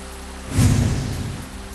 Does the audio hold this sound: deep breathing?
no